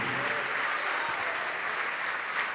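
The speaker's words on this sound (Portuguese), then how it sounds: "E vamos aplaudir mais" Steady, even applause from a church audience in a Portuguese-speaking service, a continuous wash of many hands clapping at a constant level with no break.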